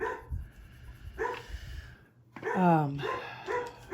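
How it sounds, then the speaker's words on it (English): A dog being walked across the street gives a short burst of yelping barks, fairly distant, heard under a person talking. "I've got a neighbor walking his dog across the street."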